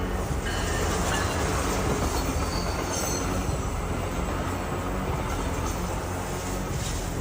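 A passing train gives a loud, continuous rumble with a rattling roar of rail cars and faint high wheel squeal, steady throughout with no voices.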